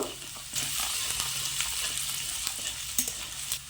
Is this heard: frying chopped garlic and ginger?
yes